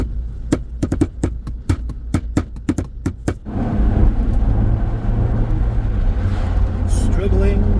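An MG ZR with a 1.4 K-series engine labours against a seized brake caliper, starting with a run of sharp repeated knocks before a steady, loud engine drone and road roar build and hold to the end.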